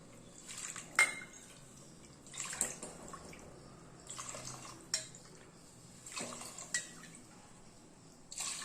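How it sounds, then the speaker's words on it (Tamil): Water is poured in several repeated splashy pours from a cup into a metal pressure cooker, with light clinks of the cup against the rim, fairly quiet. "இந்த கப்பால் ஆஞ்சி கப்பு தண்ணி ஊற்றிக்கலாம்"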